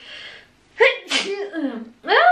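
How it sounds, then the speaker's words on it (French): A single loud, close sneeze, with a sharp breathy intake before it and a voiced exclamation right after. "Attention, je vais éternuer."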